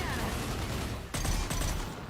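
Gunfire erupts in a corridor fight in Mass Effect 2, a sudden burst of rapid, loud shots that continues for about a second over a steady ambient game background, with a voice talking faintly underneath.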